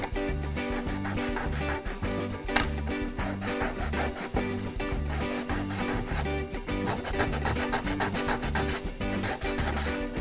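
Steady, continuous sanding of a brass sheet for a pendant, a harsh abrasive scrape repeating in quick back-and-forth strokes with one brief sharp scratch partway through.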